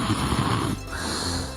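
Snoring from a man asleep: a single rough, rattling inhale that gives way to a softer, breathy exhale, close and moderately quiet, with no talking over it.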